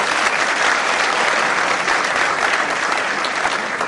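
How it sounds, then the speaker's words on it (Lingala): A political rally crowd applauds allies from the IDPS, a dense, steady burst of clapping that stays loud and close for the whole stretch with no voices over it. "je vous demande d'applaudir nos amis de l'IDPS"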